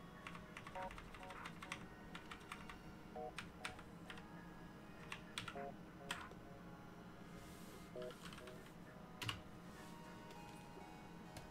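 Computer keyboard typing during a digital comic-drawing session: scattered clicks and short bursts of keystrokes over a steady background hum, fairly quiet and close, with no voices.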